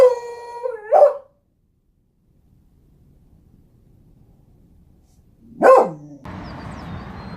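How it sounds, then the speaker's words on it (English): A dog on a balcony across the street gives a long, wavering howl, then a bark. After a quiet gap it lets out another sharp howl-bark, and a burst of broad rumbling noise follows. "dog on the balcony across the street."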